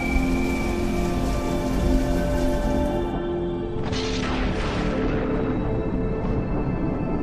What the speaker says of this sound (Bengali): চারিদিকে প্রবল ঝড় বৃষ্টি, সাথে বজ্রপাত